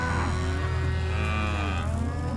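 Cattle moo steadily from a large mob of about a thousand head being droved along a road south of Tamworth, Australia, layered calls overlapping continuously at close to mid distance with no talk.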